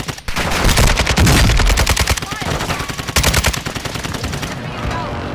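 Dense rapid gunfire from a Call of Duty Warzone match on the Al Mazrah map, loud and continuous with sustained automatic bursts crowding the whole stretch.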